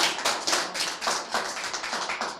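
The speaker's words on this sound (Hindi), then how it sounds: "एक बार जोरदार तालियां बजा दें" An audience at a poetry recital claps in a short burst of loud, fairly rhythmic applause, with distinct hand claps audible throughout.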